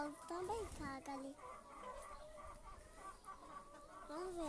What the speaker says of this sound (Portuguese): Olha o galo.